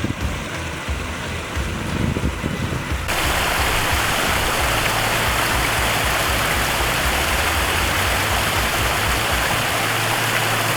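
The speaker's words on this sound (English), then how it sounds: "we're gonna have a little bit more volume in that waterfall" Water rushes down a man-made mountain stream waterfall in a steady, close, broadband flow. It swells noticeably louder and fuller after about three seconds and keeps pouring evenly to the end, with no voices.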